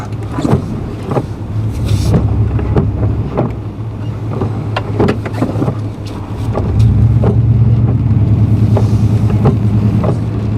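A long wheelbase truck drives along a cul-de-sac street, its steady low engine drone and road rumble continuous and fairly close, growing somewhat louder and heavier in the second half with no talking.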